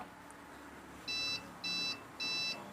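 Three evenly spaced high electronic beeps from the controller of a 3-horsepower centrifugal water pump sound in a row, each lasting about a quarter second, over a faint low background hum.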